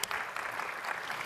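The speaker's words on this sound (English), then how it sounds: "It actually deserves a round of applause" Brief burst of audience applause at a tech conference session on Office 365 and SharePoint, steady dense clapping from the start with a sharp onset, fairly soft and spread across the room.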